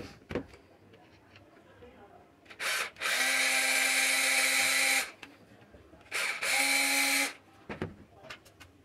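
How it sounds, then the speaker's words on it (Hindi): A power drill grinds into the rivet pin of an MCB circuit breaker in two separate bursts, the first about two seconds long and the second shorter, with quieter handling noises between them. "तो इसके ऊपर मैंने ड्रिल चलाया, इसका ये सर ख़त्म हो गया"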